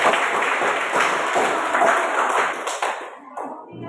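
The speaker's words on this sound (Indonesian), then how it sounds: "Tepuk tangan untuk kelompok 2." A school class applauds a student group at the end of their discussion presentation, a steady dense patter of many hands that fades and thins out toward the end, leaving a few scattered claps.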